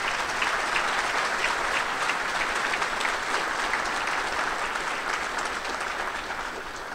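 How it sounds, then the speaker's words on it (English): Audience applause for a speaker at a skeptic talk, a dense, steady clapping of many hands that holds loud throughout and tapers slightly near the end, with no voices over it. "So one more round of applause for the amazing man."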